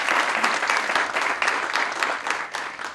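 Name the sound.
audience applause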